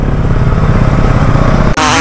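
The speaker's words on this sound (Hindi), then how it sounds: "बाइक में पावर बढ़ी है यार मेरी" A Bajaj Pulsar NS200 motorcycle engine revs hard off-road, a loud continuous throbbing roar held close up for almost two seconds before a sudden harsh rustle cuts in at the end.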